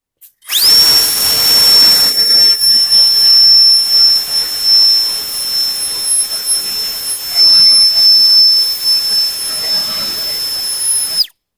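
A PROFI-TEC PTF1000BL cordless blower spins up after a brief quiet start, then holds a loud, steady whine with a high-pitched tone while blowing apples, its airflow rush varying slightly before cutting off at the end.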